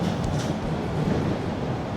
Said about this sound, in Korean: 이 지하철 어디까지 가는 건지 린도 뭔가 이상함을 느낍니다